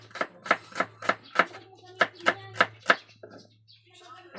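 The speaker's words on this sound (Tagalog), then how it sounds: "So ito, hiwain natin yung sibuyas" A knife chops onions on a board in about ten crisp, evenly spaced cuts, close and distinct, which then trail off into a few softer taps over a low background hum.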